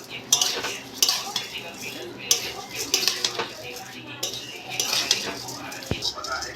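Vermicelli frying in hot ghee in a wok, with a metal spatula repeatedly scraping and clinking against the pan in an uneven stirring rhythm, close up, with a faint sizzle underneath.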